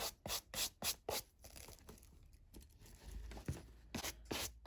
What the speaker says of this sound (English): The next step is to use the little brush.